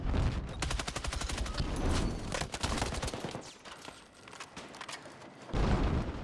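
Frag grenade and gunfire in Battlefield 6, with loud rapid bursts of automatic fire and heavy booms, a brief lull midway, then another loud burst of shots near the end.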